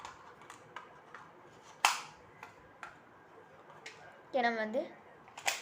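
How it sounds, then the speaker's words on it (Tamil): Bullets are loaded into an unboxed pistol. A handful of sharp metallic clicks and snaps are spaced out, with a faint ratcheting run near the end, while someone talks quietly. "இது வந்து நம்ம லோட் பண்ணுறப்போ அந்த சவுண்டெல்லாம் ஒரிஜினலாகவே இருக்குது"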